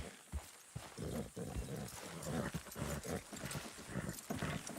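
Horses in the Western video game Red Dead Redemption 2 move at a trot, with a quick, irregular clip-clop of hooves close by and some low rumbling in the background.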